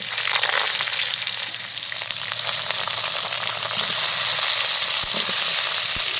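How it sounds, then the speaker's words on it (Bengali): Cut potatoes hitting hot oil in a wok after a bay leaf and cumin tempering, a loud, continuous crackling sizzle that holds steady throughout with a couple of faint knocks near the end. "কড়াই বসিয়ে দিলাম, তেজপাতা আর জিরে ফোড়ন দেওয়ার পর কিন্তু আমি আলুটা দিয়ে দিলাম"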